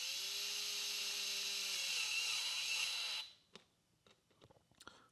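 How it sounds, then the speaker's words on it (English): A DeWalt 66719 electric screwdriver drives screws back in at light torque, a steady high motor whine running about three seconds before stopping abruptly, followed by a few faint clicks and handling taps. "now I want to reinstall these with a very light torque without over torquing"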